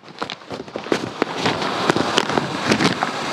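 A peacock feather firecracker bursts close by in a rapid, dense string of crackling pops that stays loud and continuous over a few seconds, with wind buffeting the microphone.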